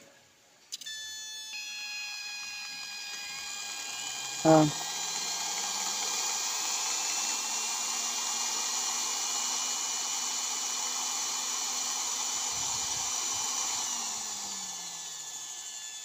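A homemade inverter built with IRFZ44N MOSFETs running under test, giving a steady high-pitched electronic whine with a tonal hum throughout, a brief click near the start and another midway, and a low tone that fades out near the end.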